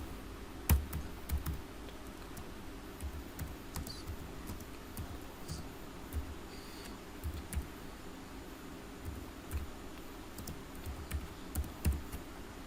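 Keys on a computer keyboard are tapped in a light, irregular series of soft clicks over a low room hum, quiet and close.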